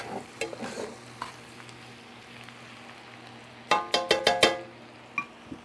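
Cabbage and bacon fry in a pan for a Southern-style dish, a soft sizzle under faint scraping stirs, then a quick burst of sharp metallic utensil clinks against the pan near the end.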